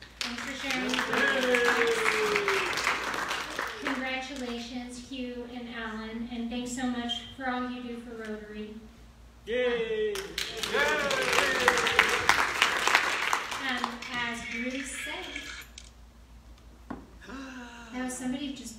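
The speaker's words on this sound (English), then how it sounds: "somebody just piped in some crowd noise for me" Crowd noise and applause play at a Rotary Club meeting, with bursts of clapping that swell, drop off and return, and a voice speaking over and between them.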